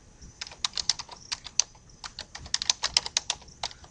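Fingers tap out a quick, uneven run of keystrokes on a computer keyboard while entering login details, close and clear with no talking.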